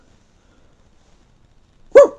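After near silence, a person lets out one short voiced bark-like yelp, imitating a dog's bark and howl at once.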